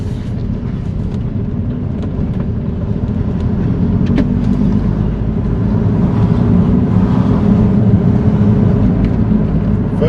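A car engine rumbles low and close as it accelerates through the gears, growing slightly louder with a brief break at a shift midway.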